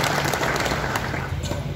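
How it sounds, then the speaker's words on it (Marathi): An audience applauds at a felicitation event, a dense, steady burst of many hands clapping that fills the whole short stretch without talk. "तुम्ही बापूसाठी एकदा जोरदार टाळ्या वाजवा"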